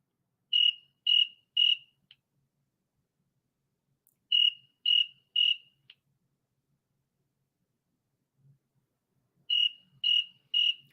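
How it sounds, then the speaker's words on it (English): Crickets chirping in three evenly spaced bursts of three quick chirps each, crisp and fairly close, with silence between bursts and no talk. "these crickets are gonna die"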